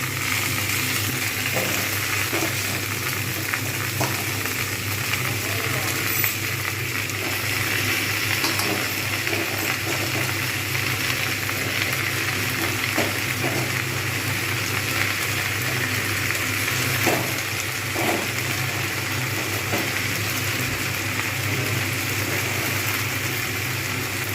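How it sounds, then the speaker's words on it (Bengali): Spinach and bottle gourd leaves fry in a pan, an even, continuous sizzle with occasional light stirring scrapes and clicks throughout, close and steady. "এইবার আমি পালং শাক আর লাউ শাক যেটা রেখে দিয়েছিলাম আমি কিন্তু সেইটা আমি এর মধ্যে দিয়ে দেবো"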